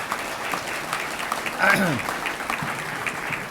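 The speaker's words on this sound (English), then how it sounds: "I think we should give them all a round of applause for this amazing." Applause from an audience at a Rotary district training assembly, a steady wash of clapping running the whole stretch with a brief swell in the middle, where a voice speaks over it.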